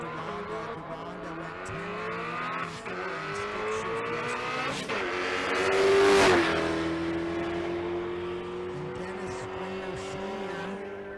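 A 2010 Chevrolet Camaro with a stick shift drag racing at a drag-and-drive event, its engine revving and climbing through gears with a brief tire squeal, loud and close amid other car noise.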